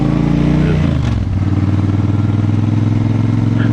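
A Suzuki Intruder 1400 motorcycle with a stock exhaust idles with a loud, steady low rumble, with a brief shift in engine note about a second in.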